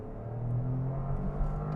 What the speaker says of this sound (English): You might have heard there is no fake engine sound in this car. So when I put my foot down,